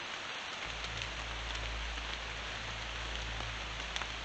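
Steady rain falls at night close to a cemetery, a dense, even hiss of drops on surfaces with a low rumble underneath, continuous and fairly close throughout.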